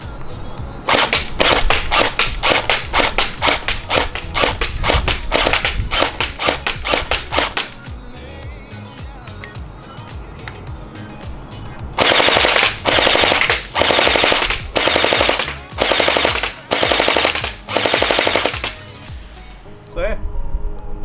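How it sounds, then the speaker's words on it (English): A JM ACR gel blaster rifle fires at a target about 10 meters away, first a rapid string of single shots, then several loud full-auto bursts separated by short pauses. "let's go single fire, then full auto."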